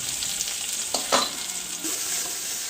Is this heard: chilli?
yes